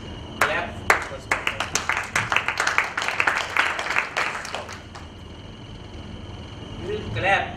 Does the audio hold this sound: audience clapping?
yes